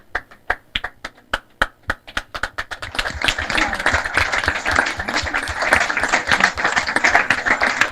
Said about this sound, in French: Applaudissons pour le Seigneur, applaudissons pour le Seigneur